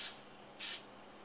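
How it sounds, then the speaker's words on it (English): Cooking spray oiling a pan for poached eggs, two quick hissing bursts, the first brief and the second a little longer, close and fairly quiet, with no talking. "I'm going to use this cooking spray"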